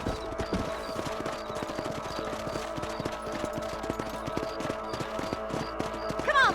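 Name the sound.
horse hooves clip-clopping while riding, from video game Red Dead Redemption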